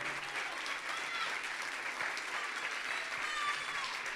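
Steady, dense applause from a live audience for a singer at a singing-contest semi-final, continuous and fairly loud across the whole stretch with no clear break.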